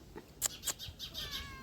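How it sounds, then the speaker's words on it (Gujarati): A cat meows several times in short, high calls, a couple of louder ones followed by softer trailing cries, fairly close with quiet background. "અને બે મીંદડી છે ને આવી ગયું છે દૂધ પીવા"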